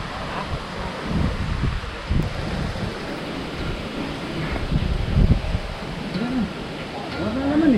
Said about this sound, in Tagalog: sarap ng hangin dito ay